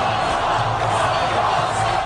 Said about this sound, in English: the cheering is happening here for Ron Paul in the stadium